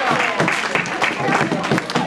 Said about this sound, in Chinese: 所以，观众可以 给你们自己掌声